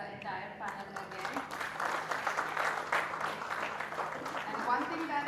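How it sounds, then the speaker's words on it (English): A conference audience at a TiEcon Vizag panel on venture capital and private equity gives a steady, moderately loud round of applause, with some talk under the clapping. "a very, very big round of applause for the entire panel again"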